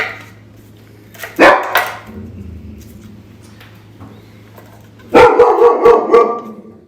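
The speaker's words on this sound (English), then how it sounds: "The dog is going by." A dog barks in a home kitchen, two short bursts of close, loud barking separated by a quieter stretch with a low hum in the background.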